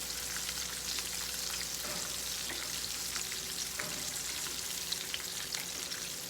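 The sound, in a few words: shrimp deep frying in oil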